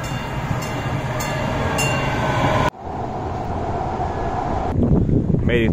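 Tram ride in San Jose: a steady rolling rail rumble with wind noise, briefly dropping in level partway through before carrying on, close and continuous.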